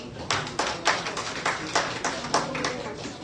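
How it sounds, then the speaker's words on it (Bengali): Applause from an audience at a Mother's Day gathering, a steady run of clapping with sharper bursts repeating through the whole stretch, moderately loud and close. "আন্টির জন্য আমরা একটি করতালি দিই।"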